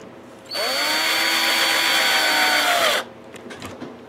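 A power drill bores into the body of an Explorer-style electric guitar, one loud sustained whine for about two and a half seconds, pitch sagging slightly as it bites into the wood, then stopping to quiet handling noises.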